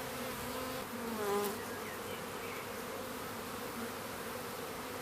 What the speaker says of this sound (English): So you can see the bees at the entrance of the door, fanning away furiously